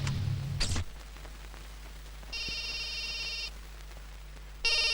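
An incoming call sets a phone ringing: two bursts of bright electronic ringtone, the second cut off at the end, over a steady low hum after a short clatter at the start.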